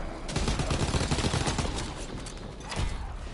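Gunfire from a Zeppelin in a WW2 Nazi zombies video game, a continuous dense rattle of shots, steady and fairly loud throughout.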